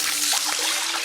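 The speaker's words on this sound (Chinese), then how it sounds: "加水进去。" Water poured into a wok over chopped scallion, ginger, Sichuan peppercorns, star anise, cassia bark and bay leaves, a steady close trickle lasting about a second with no talk.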